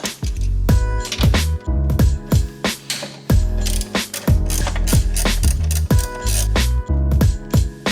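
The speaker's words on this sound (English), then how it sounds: "we want to remove the 2 12mm nuts holding in the clutch master cylinder to the firewall" A ratchet wrench works the two 12mm nuts off a Subaru WRX clutch master cylinder at the firewall, making rapid, loud clicking bursts in repeated strokes with short pauses between, close up and without talk.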